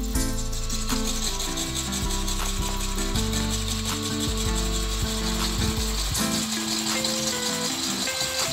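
A power drill fitted with sandpaper whirs steadily while grinding and rubbing against the underside of a stuck door, loud and continuous, with no talking.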